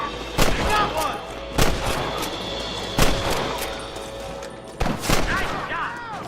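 Gunshots from a Western shootout in the video game Red Dead Redemption, four sharp, loud reports spaced about a second or more apart over a steady ambient background, with some talk in between.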